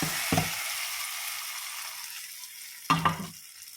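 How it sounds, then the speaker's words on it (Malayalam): Mustard seed tempering tipped into a Kerala udachu curry, giving two short bursts of sizzling and stirring clatter, near and fairly loud, separated by a quieter stretch of faint frying hiss. "കടുക് വറുത്ത് വെച്ചിരിക്കുന്ന"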